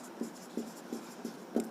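A marker or chalk taps and scrapes on a board in five short, evenly spaced strokes, faint and close, with no talking.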